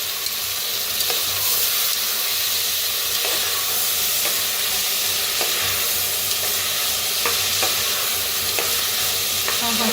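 Coriander, tomato and peas fry in a pan with a steady, loud sizzle, and stirring scrapes recur throughout. No one speaks.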